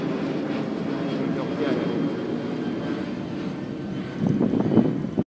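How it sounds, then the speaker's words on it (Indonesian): An airplane from a nearby airport passes overhead near a mangrove forest, a steady broad roar with wind buffeting the microphone, while people talk briefly near the end. "Ini pesawat dari bandara"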